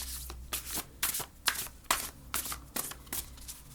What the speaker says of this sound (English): I just like to shuffle these in front of you